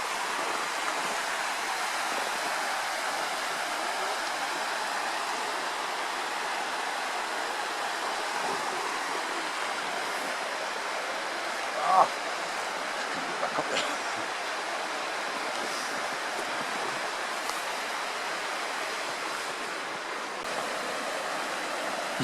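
River running through wintry Scottish woods in rain, a steady, broad rushing of water that holds even throughout, with a faint knock partway through and no talk.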